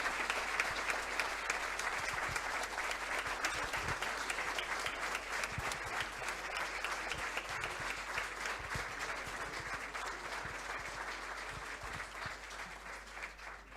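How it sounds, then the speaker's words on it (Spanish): An audience at a charismatic Catholic gathering applauding to welcome Monsignor Gabriel Mestre, dense sustained clapping from many hands that holds steady and fades slightly toward the end, with no talk. "Por eso recibimos con un fuerte aplauso al Señor, a nuestro Padre, amigo y hermano, Monseñor Gabriel Mestre"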